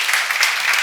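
Church congregation clapping together during a sermon, a brief, steady burst of many hands close by.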